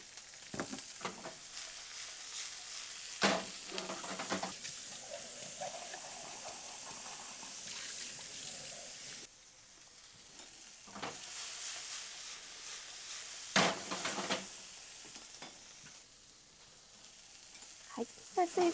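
Green peppers stir-frying in a pan for ratatouille, giving off a steady close sizzle and hiss broken by several sharp bursts of scraping and stirring, with no talking.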